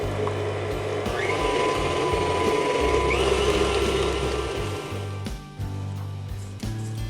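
An electric mixer whirs steadily as it beats brown-sugar syrup and milk into pumpkin cookie dough, a close, continuous mechanical hum with faint rattling that changes slightly near the end.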